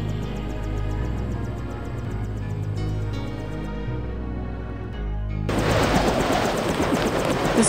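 Helicopter in the video game Deus Ex, a steady low rotor drone running throughout, growing louder and rougher toward the end, with no talk over it.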